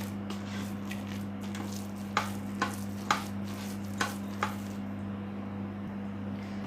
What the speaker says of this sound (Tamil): இதை லேசாக அப்படி மசிச்சு மட்டும் விட்டுடலாம்.